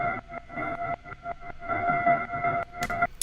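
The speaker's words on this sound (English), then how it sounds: "I also took the intro pad from the verse in the beginning, and I just put it up an octave and had it hover like it was in the beginning" A synth pad taken from the intro and pitched up an octave hovers softly, in short pulsing bursts with a faint airy swell near the end and no voices.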